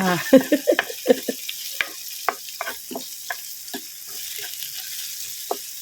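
Thai stir-fry of undulate venus clams with roasted chili paste in a pan: close, loud clacks and scrapes of shells and spatula in a rapid, uneven rhythm, fading to a quieter sizzle toward the end.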